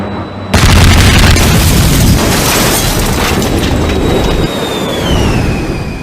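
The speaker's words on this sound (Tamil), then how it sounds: "கூட்டணியினர் விமான ஆதரவு, பீரங்கி தாக்குதல் மற்றும் டாங்குகள் அனைத்தையும் ஒரே நேரத்தில் பயன்படுத்தியதால்" A sudden, powerful artillery blast opens a loud, rumbling battlefield barrage from the Second Battle of the Marne, followed by sustained roaring noise and a faint falling whistle.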